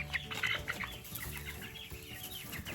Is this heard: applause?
no